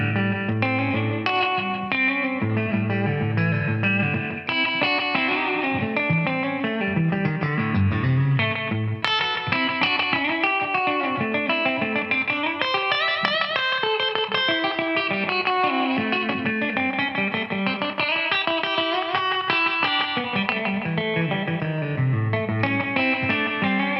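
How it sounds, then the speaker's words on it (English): A Boss RE-20 Space Echo pedal adds a tight slapback echo to a continuously played instrument, with each note doubled by a quick repeat under a steady, bright sustained texture. "So that was basically the slapback effect."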